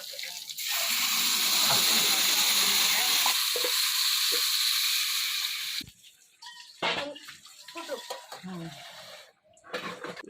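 Chili paste water tipped into a hot pan on a village kitchen stove, a loud steady sizzle of several seconds that then cuts off into quieter clatter and stirring.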